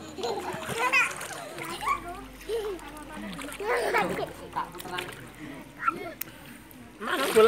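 A child splashes while swimming in a pool, with repeated close, irregular watery slaps and sloshes mixed with a voice and adult chatter nearby.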